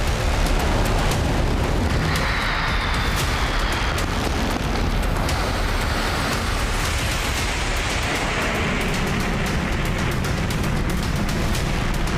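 An Israeli strike on the Mobin energy plant in Asaluyeh, Iran, a continuous loud roar of blasts and rumbling fire with sharp bursts scattered throughout.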